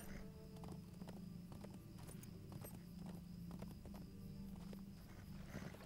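Horse hooves clip-clopping in Lord of the Rings Online as a mount heads up a hill path, a steady rhythmic gallop close and moderately loud over game ambience.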